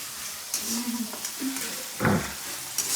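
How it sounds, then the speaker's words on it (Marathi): Garlic cooks in a pan with a soft sizzle beneath brief clattering stirs and scrapes, a louder utensil clack near the middle, and faint voice-like tones in the background. "इथं सध्या काहीतरी लसूण शिजतोय."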